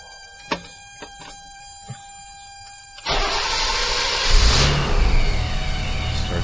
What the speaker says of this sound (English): I'm going to start the car, and I'm just going to press on the brakes a few times.